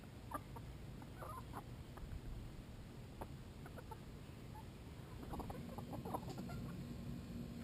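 Backyard chickens clucking softly around a simple grub treat dispenser, scattered quiet clucks and murmurs from a small flock, fairly distant and low in level with no talking.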